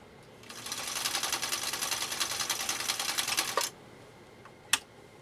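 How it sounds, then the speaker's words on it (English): A 1961 Viking Husqvarna 19E sewing machine stitches straight through three layers of compressed felt in a fast, even mechanical chatter lasting about three seconds, then stops, followed by a single sharp click. "Now we're going to lay down a straight stitch."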